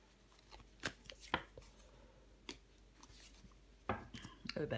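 Tarot cards are laid out and handled on a table, giving soft, quiet snaps, slides and taps close by, with a few sharper flicks near the end.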